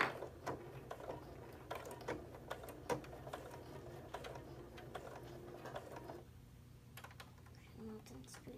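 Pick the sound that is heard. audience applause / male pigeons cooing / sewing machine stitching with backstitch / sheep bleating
sewing machine stitching with backstitch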